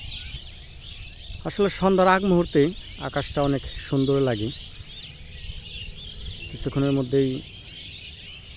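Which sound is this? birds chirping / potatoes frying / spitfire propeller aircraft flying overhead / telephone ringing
birds chirping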